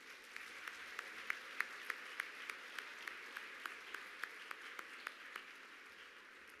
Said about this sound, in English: Please give a big round of applause to the following 3 individuals